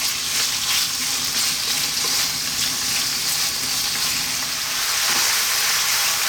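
Lamb sears in a pot over medium heat, giving a constant, bright sizzle that stays loud and even with no talking.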